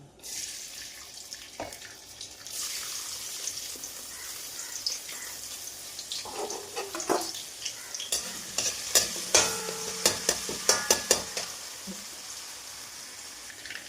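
Garlic and ginger frying in coconut oil for chilli pork, a soft crackling sizzle with stirring and scraping that grows busier and more clattery toward the end, plus a brief trickle of water in the background.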